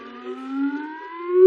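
A quiz show contestant's buzzer gives a sustained electronic tone lasting about a second and a half, steady and fairly loud, with a slight rise in pitch and a sharp cutoff at the end, with no talk over it.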